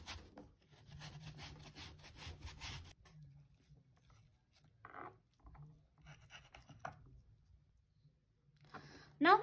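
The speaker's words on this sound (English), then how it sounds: "Now we are going to cut the other side of the apple an inch away from the stem." A knife slices through a crab apple near its stem, with quiet close-up crunching and scraping strokes in short bursts separated by pauses.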